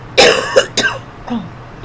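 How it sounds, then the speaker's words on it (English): Someone clears their throat in a few short, rough bursts, close and loud, then a softer rasp trails off. "if I keep on clearing my throat"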